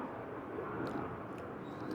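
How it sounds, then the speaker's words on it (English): An airplane passes overhead outdoors, a steady broad roar that holds throughout at moderate, even loudness, with no voices. "Planes. What's with planes in my blog here?"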